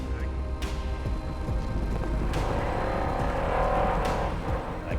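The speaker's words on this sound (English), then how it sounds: "I click third gear and just right all the way up to the rev limiter" A Baja race truck roars continuously, close and loud, as it accelerates toward the rev limiter through a sand wash, with the engine note climbing under a steady rumble of wind and terrain.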